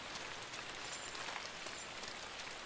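Rain falling on a cornfield in the video game Inside, a steady dense hiss of drops with faint patters, continuous and even throughout with no voices.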